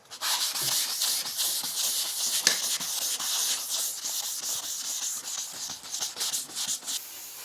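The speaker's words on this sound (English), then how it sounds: "I think you spray the panel like this, and then you sand it down" Sandpaper rubs down a car panel freshly sprayed from a rattlecan, a continuous close hissing scrub with quick back-and-forth strokes, steady throughout with a brief sharper scrape near the middle.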